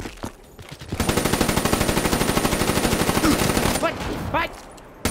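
Automatic weapon fire in Call of Duty: Black Ops III multiplayer: a long, steady, rhythmic burst of rapid shots lasts several seconds, loud and close, preceded and followed by a few scattered shots with players talking.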